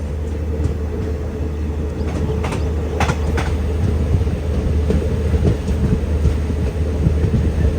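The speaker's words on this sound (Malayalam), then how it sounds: "ട്രെയിൻ ഇപ്പോൾ അടുത്തൊരു സ്റ്റേഷനിലേക്ക് എത്തിയിരിക്കുകയാണ്" Passenger train on the Srinagar–Baramulla line pulling into Sopore station in snowy country, a steady loud rumble of wheels with repeated rail clicks and low hum throughout, no voices.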